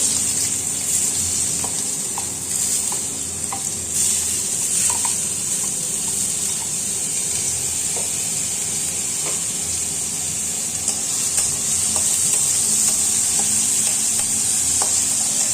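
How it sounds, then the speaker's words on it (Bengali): Chopped onion hitting hot oil and sizzling, a loud, steady close hiss that runs on continuously with faint scraping stirs throughout. "তেলের মধ্যে আমি যে পেঁয়াজটা কুচি করে রেখেছিলাম সেই পেঁয়াজটা দিয়ে দেবো"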